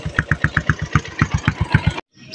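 A Yamaha Sniper 135 motorcycle cranks on its electric starter with rapid, even engine pulses for about two seconds, then cuts off abruptly, leaving a short quiet tail.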